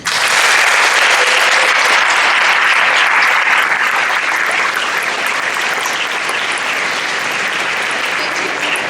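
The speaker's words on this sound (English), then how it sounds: "Please join me in thanking them in a round of applause." Audience applause at a 2022 National Honor Society induction ceremony, loud, steady clapping from many hands that holds strong for several seconds before gradually thinning toward the end.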